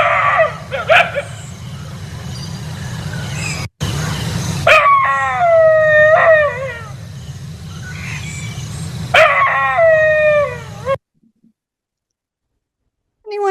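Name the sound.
Indian Pariah dog howling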